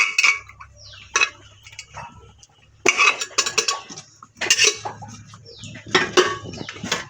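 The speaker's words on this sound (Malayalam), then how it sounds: "ഇനി ഗ്രീൻ പീസും കൂടി നമ്മൾ ഇളക്കി കൊടുക്കുക" A spoon stirs boiled green peas into masala in a metal pot, giving sharp clinks and scrapes against the pot in irregular bursts, close by, with quiet pauses between strokes.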